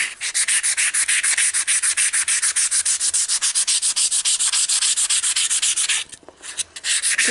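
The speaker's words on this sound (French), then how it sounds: "on ponce sur toute la longueur." Close, even back-and-forth scratching as sandpaper runs along the full length of a handmade wooden knife, fast regular strokes with a short break near the end, no voices.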